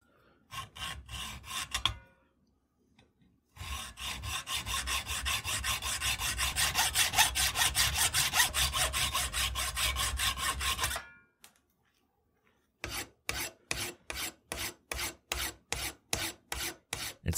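Hand saw cutting through the steel top of a Mannlicher 95 bayonet catch: two short bursts of strokes, a long steady stretch of rapid back-and-forth sawing, then a series of evenly spaced separate strokes, close and loud with no talking.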